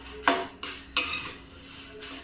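A spoon scrapes and stirs a dry curry leaf laddu mixture in a heavy pan, three sharp scraping strokes spaced apart over a faint background hum, with no talking.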